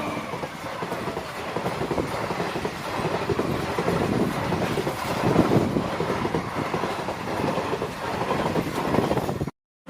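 A train rolls past a railway level crossing, a loud, steady near rumble with wheel clatter lasting throughout before cutting off abruptly at the end.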